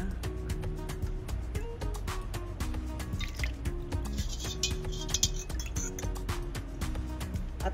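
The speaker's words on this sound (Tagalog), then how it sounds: "Kuhaan gamay ang tubig kay daghan ra." Water is poured off from a pot of cooking rice, giving a soft dribbling trickle with light drips and metallic clinks over steady background music.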